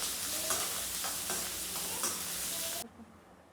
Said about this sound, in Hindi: और अब जाएंगे इसमें प्याज, और इनको करेंगे हम थोड़ा सा सॉटे।